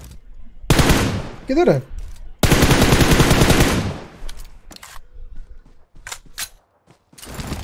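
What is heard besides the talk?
machine gun firing in PUBG Mobile video game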